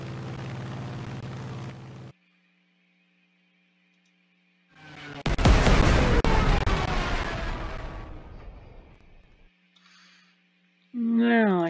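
A Stuka dive bomber's air strike in the Panzer Commander 2 game: a low steady hum, then one loud explosion that rumbles and slowly fades over several seconds, with a brief voice-like burst at the very end.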